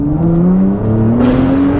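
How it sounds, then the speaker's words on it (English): A 2017 Nissan GT-R (R35) twin-turbo V6 revs up hard under full-throttle acceleration on a track, the exhaust note climbing steadily in pitch, loud and close, with a brief gear change midway. "gosh, that exhaust sounds amazing"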